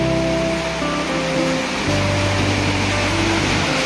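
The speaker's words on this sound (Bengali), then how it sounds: "আমরা সবাই বৃষ্টি উপভোগ করতেছি" Rain falls outside in a steady, dense hiss that stays unbroken throughout, with a faint low tonal hum running underneath.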